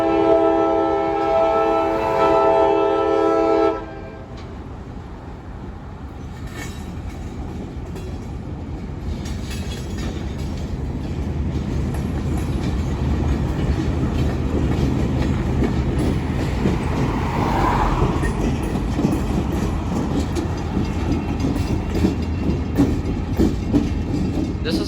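Freight train led by YN2 locomotives on the CH Spur, its horn blaring loudly in a long opening blast, then the cars rumbling and clattering steadily nearby at low speed.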